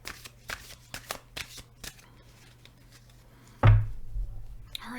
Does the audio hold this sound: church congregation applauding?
no